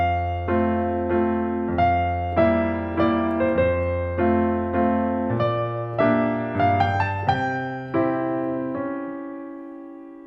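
A piano plays a reharmonized Handel passage with melody over left-hand chords, bright notes riding above sustained low harmonies in a flowing pattern, close and unaccompanied, ending on a held chord.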